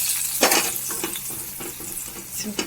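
Fried onions, cooked until well browned, are stirred into a fish curry with a spoon. The stirring makes a steady sizzle and a run of close scraping strokes, with no talking.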